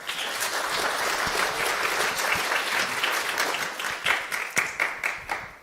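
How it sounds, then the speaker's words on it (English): Audience applause at an Innovation Cafe talk in Eindhoven, steady dense clapping from a room of listeners that holds for several seconds and then thins into separate claps near the end. "please give a big applause for Ieva"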